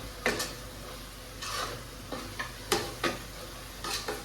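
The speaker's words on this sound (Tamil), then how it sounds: "கொஞ்சமாக சிக்கன் மசாலா இதெல்லாம் சேர்த்து நல்லா வதக்கலாம்" Quiet scraping and stirring of turmeric and chicken masala in a pan with soft sizzling underneath and occasional light clinks of a spatula against metal.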